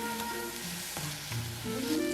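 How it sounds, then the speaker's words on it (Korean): Sliced onion and paprika stir-fry in a pan with a splash of water, a bright continuous sizzle broken by scraping stirs of a utensil, close and with no speech. "채 썰어놓은 양파를 먼저 넣고 파프리카도 넣고 볶아주세요"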